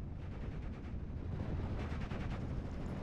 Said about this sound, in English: I am going to be able to take out both anti-tank guns with this mortar